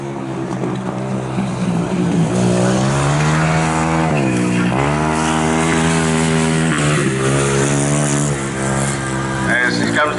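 200cc junior speedway solo motorcycle racing at Rosebank Speedway, the engine loud and close, revving in rising and falling sweeps as it powers down the back straight, with a commentator talking over it.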